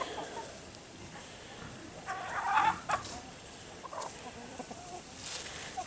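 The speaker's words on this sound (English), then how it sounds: "they're all over here having a good time being chickens." Chickens cluck in short bursts at a moderate distance, with soft outdoor background noise between calls.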